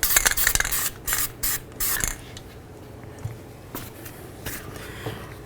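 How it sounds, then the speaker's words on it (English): Copper anti-seize sprayed from an aerosol can onto the mating surface of a front brake rotor hub on a Dodge Journey, several short hissing bursts in the first two seconds, then faint shop clatter. "put some copper never sees on our mating surface"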